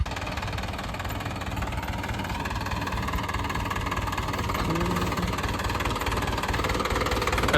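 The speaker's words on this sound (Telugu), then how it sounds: "పక్కన ట్రాక్టర్ సౌండ్ రీసౌండ్ వస్తుంది" A tractor engine runs continuously nearby, a loud, rough, knocking chug that holds steady throughout with no voices.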